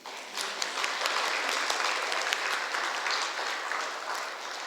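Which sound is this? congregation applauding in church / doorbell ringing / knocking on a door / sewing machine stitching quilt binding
congregation applauding in church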